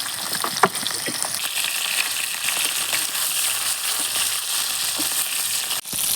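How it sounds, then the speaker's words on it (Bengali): Ganges river fish frying in a kadai: a loud, steady hiss and crackle of hot oil with scattered pops and spits, heard close up and without talking. "মাছ তো কড়াইতে দিলাম এখন মাছ কিন্তু ফুটছে সেই জন্য সাবধানে একটু ভাজতে হবে"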